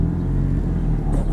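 A 2000 Plymouth Neon base engine revs with a deep, throaty rumble, steady and close for just over a second with no talk.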